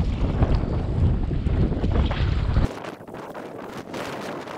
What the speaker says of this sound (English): Paddle strikes the waves.